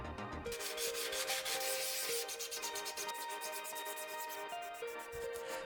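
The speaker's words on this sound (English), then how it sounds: "sanding down everything to clear up as much of the layer lines as possible" Sandpaper rubbing over 3D printed sculpture parts to smooth away layer lines, a continuous close scratchy abrasion with quick back-and-forth strokes, steady and fairly loud with no talking.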